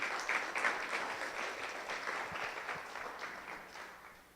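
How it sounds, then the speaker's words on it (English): Sustained applause from an audience, moderately loud and even, gradually tapering off toward the end. "please, round of applause for both of"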